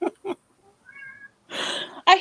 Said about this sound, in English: She scared the hell out of me when she meowed there.